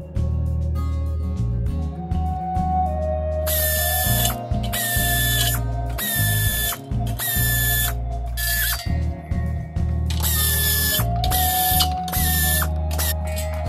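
Ratchet tool working on a picnic table during disassembly, with bursts of rapid clicking separated by short pauses under a steady mechanical hum, close and fairly loud.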